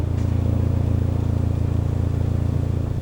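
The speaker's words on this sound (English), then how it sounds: "It really sounds like a portable gasoline generator you'd get from a hardware store" Range-extender gasoline generator in a 2016 BMW i3 drones steadily while the car sits stopped at a red light, a constant low, muffled engine hum heard from inside the cabin, with no talking.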